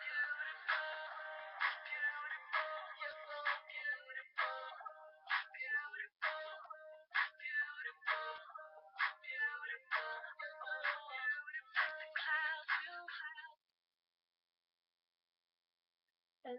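Melodic cell phone ringtone from the Zedge app, a bright chiming tune of repeated short notes in a steady rhythm, playing alone and clearly for about thirteen seconds before stopping.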